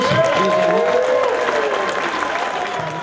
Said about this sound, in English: Let's have a round of applause for both competitors.